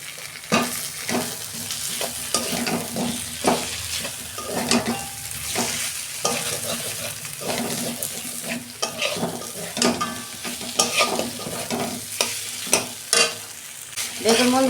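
Potatoes and vegetable stalks frying in a spiced masala, with a loud continuous sizzle broken by repeated scraping strokes of a spoon against the pan.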